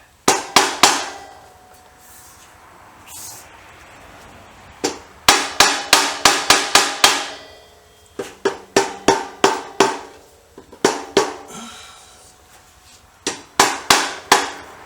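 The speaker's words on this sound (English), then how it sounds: "Let me get another hammer so I can hammer it 2 ways." Sharp metallic hammer blows on a stuck bolt of a BM B44 motorcycle ring out in quick bursts of several strikes, loud and close, separated by short pauses.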